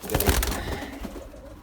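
Soft cooing from fancy pigeons, a low throaty burble, heard close by with some faint rustling, brief and fairly quiet.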